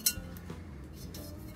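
China dishes from a storage unit clink lightly as they are handled, a couple of quick, bright taps over a soft background of handling noise.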